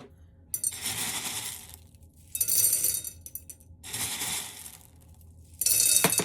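Loose filler pieces poured and dropped into the bottom of a glass vase, heard as three separate bursts of bright clinking and rattling against glass, each lasting about a second and a half, with short pauses between.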